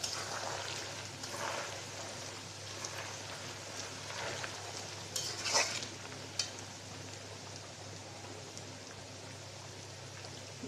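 Whole peeled garlic cloves fry in mustard oil as it foams, a soft continuous sizzle and fine crackle with a few louder pops and spatters, steady and close, no talking.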